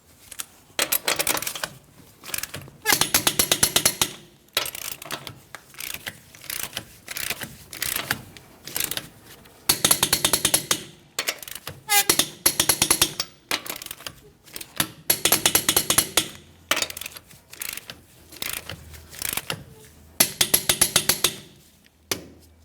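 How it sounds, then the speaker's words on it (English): Lug nuts on a 2015–2025 Ford Transit 250 front wheel being torqued down with a torque wrench, heard as repeated bursts of sharp metallic ratcheting clicks separated by short pauses, close and loud. "Let's go ahead and torque each one of our lug nuts to that 148 foot-pounds."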